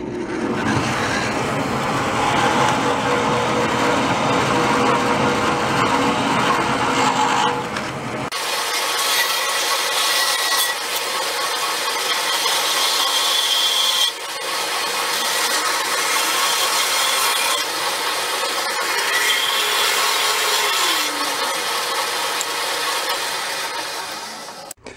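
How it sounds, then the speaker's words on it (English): Bandsaw cutting open the end of a used lawn mower part, a loud continuous whirring drone with a grinding edge that shifts in tone as the cut starts and stops, no talking. "Let's go hit it on a bandsaw real quick and pop the end off"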